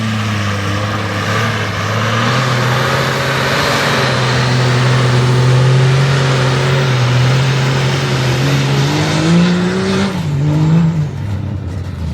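A car on slick tires spins out in sand, its engine droning loud and steady, then revving higher with rising pitch before easing off.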